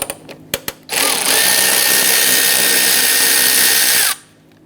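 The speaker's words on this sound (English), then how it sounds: "Using a 7mm socket, go ahead and loosen this lower bolt" A power tool spins a 7mm socket to loosen a lower bolt on a 2011-2019 Ford Explorer front bumper bracket. A few sharp clicks come first, then a loud, steady whirring run of about three seconds that cuts off abruptly.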